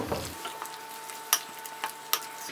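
Chicken being stirred into sauce in a pan with a soft background sizzle, punctuated by a few sharp clinks of a utensil against the pot.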